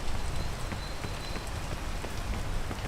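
Steady rain pours down in a video game world, a dense continuous patter of drops with no other sounds and no voices.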